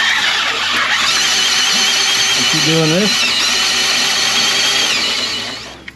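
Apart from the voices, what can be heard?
power drill with 7mm bit drilling out control arm bushing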